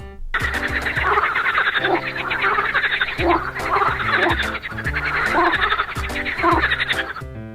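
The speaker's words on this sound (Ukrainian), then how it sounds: "Жаба квакає. Ква-ква." Dense, overlapping croaks from many frogs, a loud continuous chorus with pulsing rhythm and no pauses.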